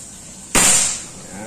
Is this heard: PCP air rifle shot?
yes